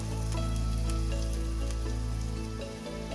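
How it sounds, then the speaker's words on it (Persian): Potato cutlet mixture fries in a pan over very low heat, giving a steady close sizzle with faint crackle that never lets up, and no voices. "بعد آوردم و مواد رو سرخ کردم"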